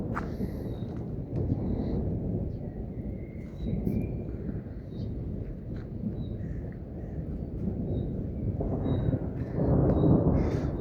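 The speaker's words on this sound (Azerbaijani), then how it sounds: "Görək bu səsin, küyün, ildırımların sonu nə olacaq?" Thunder from a storm over rocky terrain, a deep rolling rumble that swells and fades over several seconds and grows louder again toward the end.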